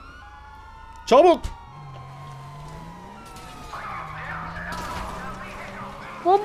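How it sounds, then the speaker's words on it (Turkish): A brief, loud, warbling police siren burst from the video game GTA 5 cuts in once, with a shorter flare at the very end, while players talk over engine hum. "O nasıl bir siren sesi?"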